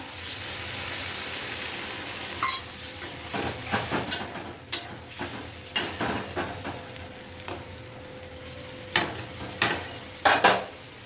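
Spice paste mixed with water hits fried potatoes and tomatoes in a pan, a low steady sizzle broken by scattered clinks and scrapes of a spoon stirring.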